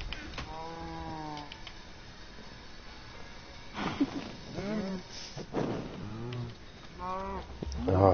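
Several drawn-out cow moos from a Minecraft game, coming in separate bursts with gaps between them, at moderate loudness over faint background noise, with no voices in between.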